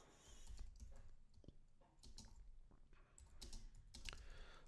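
Rapid, uneven keystrokes on a computer keyboard while writing code, close and clear, with clustered clicks and short pauses and no talking.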